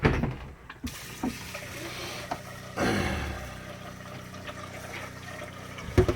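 Rice is washed in a pot under lukewarm kitchen tap water, with running water splashing and swirling at a moderate level, broken by a few knocks and short bursts of louder pouring.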